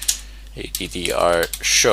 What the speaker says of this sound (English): Now we'll just type in IP